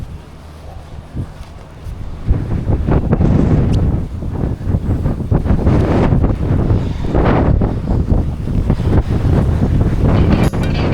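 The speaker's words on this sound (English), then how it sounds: "the wind is just ripping" Strong wind roars and buffets the microphone beside the Kenai River in Alaska, a loud, steady rush with gusty surges and low rumbling throughout, no voices heard.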